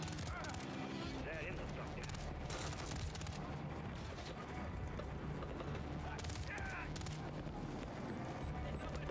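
Gunfire in the Call of Duty: Modern Warfare III video game crackles in dense, continuous bursts mixed with mechanical clatter and distant booms, fairly faint overall, with voices speaking over the battle.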